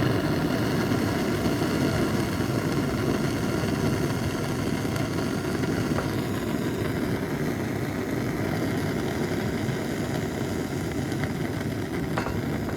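An Indian paraffin pressure cooking stove burns with a loud, steady roar as air pressure is released from its tank, the broadband hiss continuing unbroken at close range.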